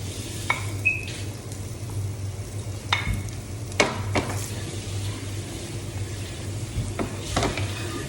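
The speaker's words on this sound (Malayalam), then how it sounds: "2 സവാള നന്നായിട്ട് വഴറ്റണം." Onions with chili, garlic and ginger sautéing in a pan for sardine curry, a soft steady sizzle with occasional scrapes and clinks of a spoon stirring against the pan.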